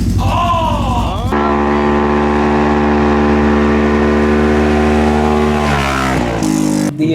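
A Polaris RS1 with an Assassin aftermarket exhaust revs up hard, then holds a loud, steady high-pitched engine note for several seconds before the revs drop and the engine settles.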